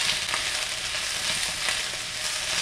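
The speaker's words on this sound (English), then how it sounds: "you're going to put in your peppers, onions, and that's what you want to hear, and your mushrooms" Peppers, onions and mushrooms sizzling in a hot pan, a steady crackling hiss with small popping bursts, close and continuous.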